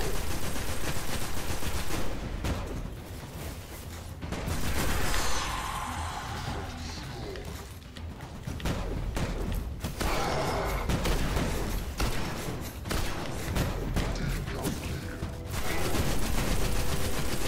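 Sustained gunfire in the video game Destiny, loud and near, with repeated bursts and heavy impact booms layered over game sounds, with no voices.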